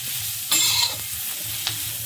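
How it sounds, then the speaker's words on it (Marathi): Wild bhokar leaves cook in a pan over the heat with a steady, close hiss of frying, broken by a brief louder scrape of stirring and a small tap against the pan. "फक्त आपल्याला इथे वाफेवरती ही भाजी शिजवून घ्यायची आहे."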